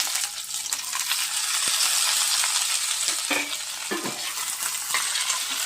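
Chopped cluster beans dropped into hot tempering oil and stirred, a loud continuous sizzle with scraping stir strokes and a few clinks of a utensil against the pan, close up, no talking.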